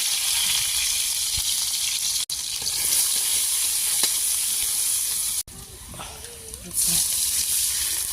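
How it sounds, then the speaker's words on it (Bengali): Potatoes and onions frying in a pan on a clay stove give a loud, close, steady sizzle, broken by a couple of brief cuts, with stirring scrapes and some faint speech underneath. "মূলত এখানে আলুগুলা ভেজে নিলাম, আমি পেঁয়াজ দিয়ে দিলাম।"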